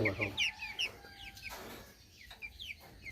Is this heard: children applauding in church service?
no